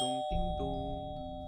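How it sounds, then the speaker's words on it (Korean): A doorbell sounds a two-tone ding-dong chime, close and clear, with the second tone following quickly and ringing out on its own. "초인종 소리가 울리고"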